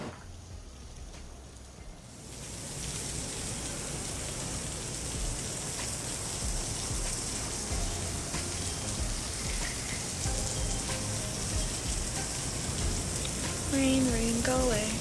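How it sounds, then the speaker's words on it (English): Steady rain pouring outside at a Punta Cana resort, a dense continuous hiss that swells after a quieter start and carries on unbroken, with a faint voice near the end. "I was woken up to beautiful rain, raining outside."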